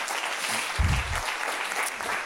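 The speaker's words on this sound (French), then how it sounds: "Je vous propose de les applaudir pour les remercier" Audience applause fills a room at a French business talk event on CFOs and CMOs, a dense steady wash of clapping over about two seconds with a brief low thump near the middle.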